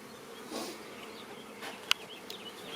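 Honeybees swarming over an open hive with queen cells on the comb, a steady near buzzing hum of many insects with a sharp brief click partway through.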